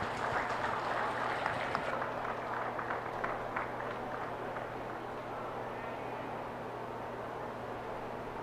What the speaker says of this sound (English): Let's give the kids a nice round of applause.